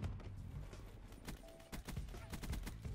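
Rapid bursts of HG40 submachine gun fire in the video game Black Ops 3, loud and dense, with repeated volleys of shots across the moment and a busy, cluttered game mix underneath.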